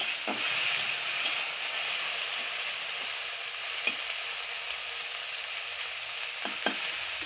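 A turmeric-spiced mixture frying in a pan, a soft steady hiss of frying with occasional light scrapes and knocks from stirring, close and alone.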